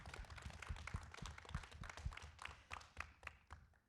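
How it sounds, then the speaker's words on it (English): Audience applause for a speaker being called up at the Adelaide eSports Summit 2020, a fairly faint, scattered patter of hand claps lasting several seconds with no talking. "So Ivan, give him a round of applause."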